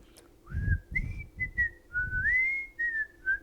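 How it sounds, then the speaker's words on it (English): A person whistles a cheerful tune from the Andy Griffith Show theme, with clear sustained and gliding notes across a few short phrases, close and alone with no talking. "Oh, no, that was whistling."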